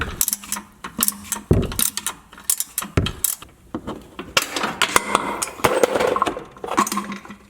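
Ratchet works an 18mm shock bolt on a Jeep JLU during a lift kit install, giving uneven bursts of clicking pawl and metallic clanks, loud and close.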